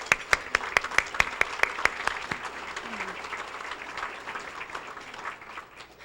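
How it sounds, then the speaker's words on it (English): An audience at a foundation luncheon applauds. Distinct nearby claps at first blend into a steady crowd clapping that slowly fades, with faint voices underneath. "Give another round of applause."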